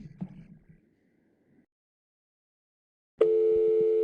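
Phone call tone when dialing into Cisco Mobile Connect, a steady electronic tone starting abruptly near the end after a pause of near silence, preceded by faint muffled sounds.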